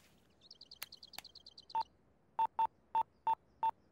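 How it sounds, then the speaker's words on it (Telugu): Push-button phone number being dialed, a quick run of soft beeps followed by six louder, evenly spaced keypad tones, close and clear with no talking. "ఒకసారి ఫోన్ ఇవ్వా, సునీతతో మాట్లాడాలి."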